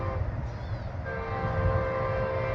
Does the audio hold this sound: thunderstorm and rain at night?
no